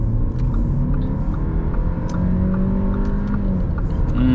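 An Audi A5 35 TFSI facelift with a 2.0-litre 150 hp engine hums steadily and loudly from inside the car, its pitch slowly climbing as it gathers speed.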